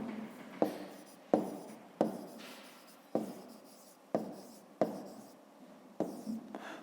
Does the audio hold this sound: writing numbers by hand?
yes